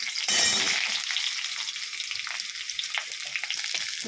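Drumstick stalks drop into hot oil with black cumin and green chillies, setting off a loud burst of sizzling that settles into a steady crackling fry, close up with no talk.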